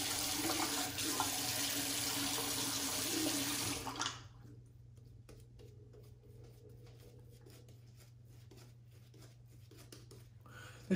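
Water runs from a tap onto a shaving brush for about four seconds in a steady, close hiss, then cuts off, leaving quiet soft handling sounds.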